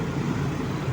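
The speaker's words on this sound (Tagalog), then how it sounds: "Medyo traffic yung area ngayon." Steady city street traffic in Agdao, Davao City, a continuous broadband rumble of car and truck engines idling and moving nearby, with no talk.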